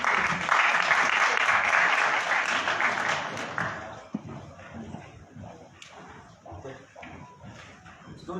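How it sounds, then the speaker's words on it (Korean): A room of press and guests applauds at a new-year press conference in Hwaseong as the mayor walks in, a loud, dense burst of clapping that fades after about four seconds, leaving faint room noise and scattered thumps. "큰 박수 부탁드리겠습니다."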